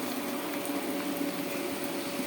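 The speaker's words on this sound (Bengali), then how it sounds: "পেঁয়াজটা ভাজা নিচ্ছি," Onions fry in a pan with a steady, dense sizzle that stays even and continuous throughout, with no other sounds.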